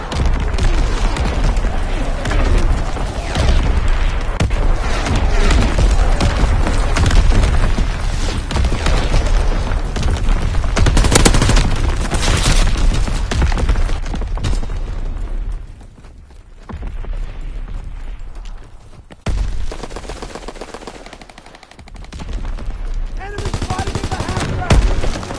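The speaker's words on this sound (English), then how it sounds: "Incoming enemy artillery!" An enemy artillery barrage and gunfire in a war video game, with dense, loud, continuous rattling shots and booming explosions that drop off briefly toward the end before resuming.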